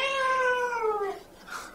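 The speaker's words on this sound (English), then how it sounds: "Okay, Google, make sound of cat." A cat meow played by a smart speaker voice assistant, one drawn-out descending call lasting about a second, close and clear, followed by a brief fainter tail.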